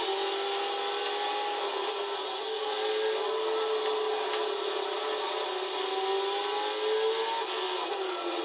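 The Lexus IS F CCR race car engine in Gran Turismo 6 whines steadily at speed, its pitch rising and dipping slightly with throttle through gear changes, fairly loud and alone.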